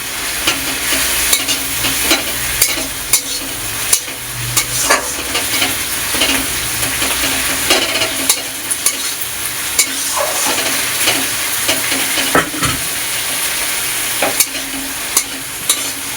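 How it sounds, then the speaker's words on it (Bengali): Green chili paste frying with onion and garlic in a pan, a continuous close sizzle broken by repeated scraping clicks of the stirring spoon. "পেঁয়াজ রসুনটা হালকা নাড়াচাড়া করে এবার দিয়ে দেবো আমি লঙ্কা বাটা, কাঁচা লঙ্কা বাটা"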